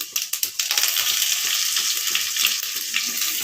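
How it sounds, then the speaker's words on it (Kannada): Garlic sizzles and crackles loudly in hot tempering oil with mustard seeds and cumin, a dense continuous hiss with sharp pops and stirring scrapes near the start. "ಒಂದು ಗೆಡ್ಡೆ ಬೆಳ್ಳುಳ್ಳಿ ಅದು ಚೆನ್ನಾಗಿ ಸ್ವಲ್ಪ ರೋಸಾಗಬೇಕು"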